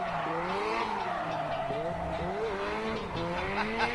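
A car spins its tires on a race track at a live track event, with a loud, continuous wavering tire squeal over engine roar lasting throughout, and voices faintly mixed in.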